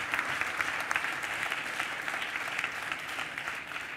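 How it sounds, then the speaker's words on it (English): Audience applause at a European development conference panel, a steady, moderately distant wash of clapping that continues evenly before tapering slightly at the end. "A round of applause."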